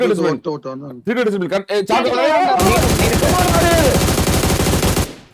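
Voices talk over the BGMI video game, then a long, loud stream of rapid automatic gunfire rattles for about two and a half seconds.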